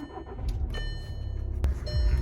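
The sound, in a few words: car being turned on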